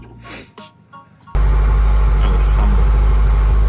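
A Suzuki Samurai rally car with an overheating engine starts up and runs steadily and loudly close by, after a stretch of people talking.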